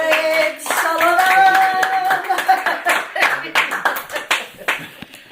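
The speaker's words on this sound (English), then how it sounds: "May we have another round of applause, please" Audience applause at the 2020 Cape Cod Ragtime Festival for a ragtime pianist, a burst of many hands clapping that swells and then thins into scattered claps, with a voice and some laughter mixed in.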